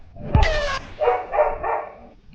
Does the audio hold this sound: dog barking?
yes